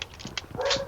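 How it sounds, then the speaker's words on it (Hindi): A dog barks and whimpers in the background, a few short yelps followed by a longer whine, heard behind PUBG Mobile gameplay. "सॉरी गाइस अगर आपको पीछे से मेरे डॉग की बार्किंग की आवाज़ आ रही हो तो"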